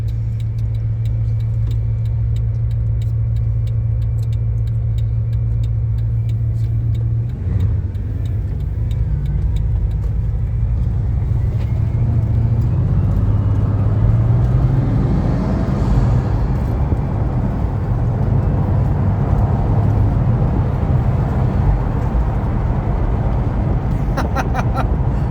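Bugatti Veyron engine pulling at quarter throttle while cold, heard from inside the car as a steady, loud low rumble that rises and swells in the second half, continuous throughout.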